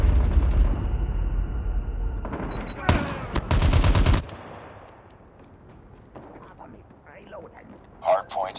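Rapid automatic gunfire rattles in a first-person shooter match on a hardpoint game mode, loud bursts in short clusters before fading, followed by quieter game ambience and brief voiced callouts.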